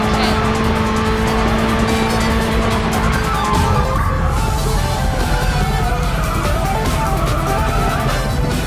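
A car drifting in the Racing Master mobile racing game, with a loud, constant engine roar and long tire squeal and skidding that shift in pitch across the run, close and continuous.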